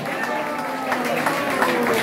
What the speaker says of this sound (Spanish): Un fuerte aplauso para ellos, se lo merecen.